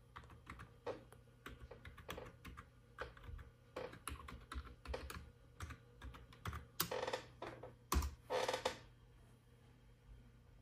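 A password is typed on a computer keyboard at an Ubuntu 24.04 login screen, heard as irregular bursts of close, quiet key clicks. A couple of louder keystrokes near the end sound like Enter being pressed.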